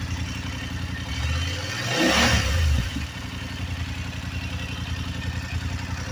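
BMW F850 GS Adventure 40th Anniversary Edition motorcycle engine idling with a mechanical clatter, swelling into a brief rev around the middle before dropping back to a steady idle.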